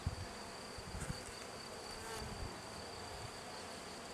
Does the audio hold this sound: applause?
no